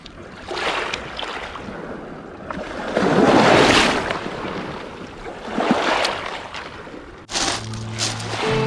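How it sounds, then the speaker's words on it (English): Waves wash onto a secluded Lake Superior beach, surging and receding in broad swells with wind noise, loud and close, no voices present. "sitting down by the water for a while, just listening to the waves and throwing rocks in the lake"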